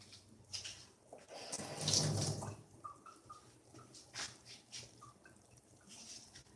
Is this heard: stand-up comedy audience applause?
no